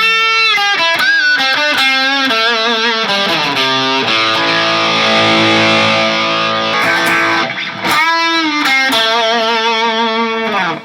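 Electric guitar with an amplifier built into its body, set to a purple-lit lead channel, plays loud sustained distorted lead notes and bends with a brief pause near the end, no talking.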